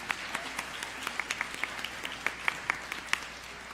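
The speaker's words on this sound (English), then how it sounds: "give them a thank you and give them a big round of applause" Audience applause at a community mountain music school concert, a steady wash of many hands clapping with sharper individual claps standing out, moderately loud and continuous throughout.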